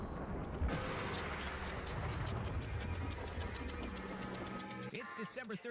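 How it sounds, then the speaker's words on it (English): A nuclear explosion in the video game Warframe rumbles as a loud, dense, continuous roar that fills the whole clip, easing only near the end into a few separate thuds. "And a nuclear explosion."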